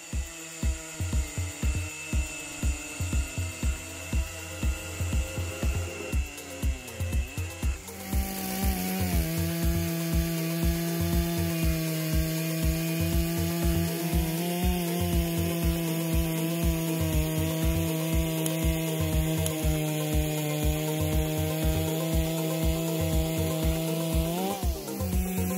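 Two chainsaws, a Stihl MS-084 and an HQ-3120XP, run side by side cutting wood, their engines droning loudly and continuously with shifting pitch as the chains bite, climbing to a heavier, sustained roar partway through.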